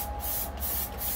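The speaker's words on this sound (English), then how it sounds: "right now what we're doing is we're spraying some more further down the material" Aerosol adhesive hisses steadily as it is sprayed onto boat headliner fabric on a trawler, a close, continuous broadband spray with slight surges in level.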